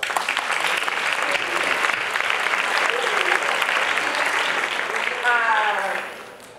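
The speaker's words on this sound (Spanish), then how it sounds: "Otro aplauso, por favor." Loud, steady applause from a crowd at a closing gala, clapping continuously for several seconds before tapering off at the end.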